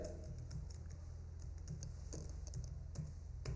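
Keys on a computer keyboard tap in a quick irregular run of soft clicks, typing text into a spreadsheet formula bar, faint and close over a low steady hum.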